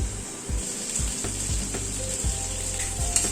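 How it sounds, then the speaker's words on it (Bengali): Spices sautéed in a pan over a medium gas flame, a soft steady sizzle with scattered scraping stirs and a low hum beneath, moderately close and quiet, no talking. "মশলাটাকে এবার একটু গ্যাসের ফ্লেমটাকে মিডিয়ামে রেখে মশলাটাকে একটু কষিয়ে নিচ্ছি"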